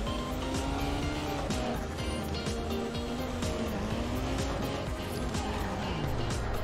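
Car engine in a driving simulator game drones loudly and continuously, its pitch rising and falling as the car revs and shifts, with no voices over it.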